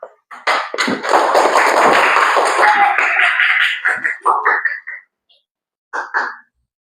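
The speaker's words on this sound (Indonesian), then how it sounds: "Betul. Tepuk tangan." A class of pupils at an Islamic elementary school claps together for a classmate's correct answer. A dense burst of clapping mixed with children's voices breaks into shorter patterned clap bursts and trails off.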